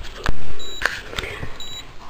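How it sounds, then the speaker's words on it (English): A camper fridge sounding its error alarm: short high electronic beeps in a brief pair, set among a few sharp clicks and faint room noise. "This fridge in the camper is beeping and it's giving a different error code"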